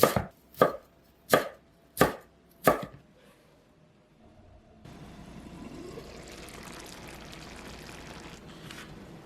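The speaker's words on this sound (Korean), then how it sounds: "당근은 가늘게 채 썰어 줄게요" A knife chops carrots into thin julienne strips on a cutting board, five sharp, evenly spaced thuds, followed by a quiet pause and then a soft, steady wash of running water.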